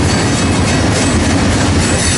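Freight train on the Harrisburg line rolls past close by as a loud, continuous rumble and roar with faint clickety-clack, filling the whole moment without any voices.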